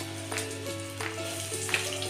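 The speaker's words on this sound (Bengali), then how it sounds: "আদাটা ভাজা ভাজা হয়ে গেছে" Ginger paste sizzling in a pan with salt, a steady crackling fry with periodic stirring scrapes, close and continuous.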